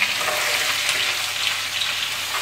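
Chopped lamb meat fries in a saç pan for saç kavurma, giving a close, steady hiss and crackle of hot fat with faint stirring and no voices.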